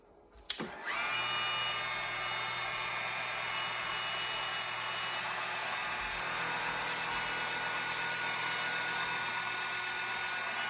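A steel chuck wrench being milled on a mini milling machine: after a brief knock, a steady, loud, even whine and hum of the motor and cutter runs unbroken to the end, close by, with no talking.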